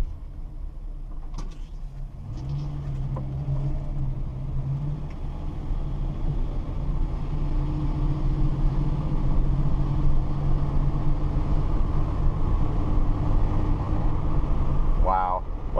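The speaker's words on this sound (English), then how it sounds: "get the car up to speed, make sure it performs properly." Interior of a 1962 Dodge Lancer GT with a slant six aluminum block engine and quiet exhaust, cruising at speed on the open road: a steady low engine and road rumble that swells slightly as it accelerates, with a voice speaking briefly.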